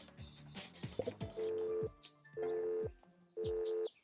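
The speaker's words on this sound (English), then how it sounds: "And dial tone." Three repeated electronic telephone dial-tone bursts in the video game Inescapable: No Rules, No Rescue, each about half a second, evenly spaced after a brief jumble of game sounds.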